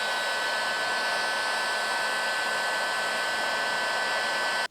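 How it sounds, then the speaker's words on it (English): A steady, loud hair dryer heats a tractor steering cylinder seal, blowing continuously with a constant airy roar, then cuts off abruptly at the end. "I'm gonna grab my snap-on hairdryer just to heat it up and make it a little softer."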